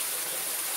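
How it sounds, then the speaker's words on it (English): A small waterfall, about 15 feet high, on a hiking trail, pours as a steady, even rush of water, close and continuous with no other sounds. "it's about a 15-foot waterfall here"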